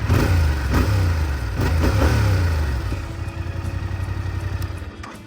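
A 2024 Yamaha R7 motorcycle engine turns over and revs loudly up close, then settles into a steady, throbbing idle.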